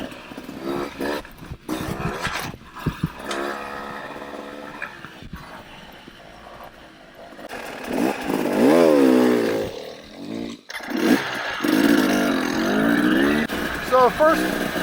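Beta 300 RR dirt bike with an RK Tek head revving and blipping in sharp two-stroke bursts, near and loud, with someone talking intermittently over the engine and wind.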